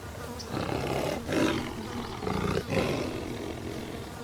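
A lion in the savannah gives a run of deep, rough roars, two or three heavy bursts separated by short pauses, close and prominent over faint insect buzzing.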